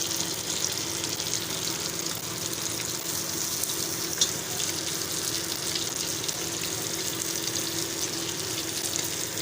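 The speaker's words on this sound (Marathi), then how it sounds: "आता ही दुसरी साईड शेक तळून घेते." Toll fish sizzles steadily in a generous amount of hot oil as its second side fries, a continuous close crackle and hiss with no talking.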